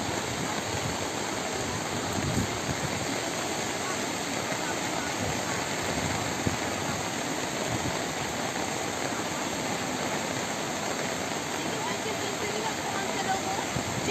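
Heavy rain pours down in Cape Verde, a dense, unbroken hissing roar that stays loud and steady throughout.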